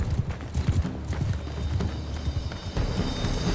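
Horse hooves clip-clopping at a brisk pace in the medieval battle game Mount and Blade II Bannerlord, with a continuous rumble of thuds and battlefield noise beneath them and no voices.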